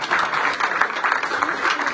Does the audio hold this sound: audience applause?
yes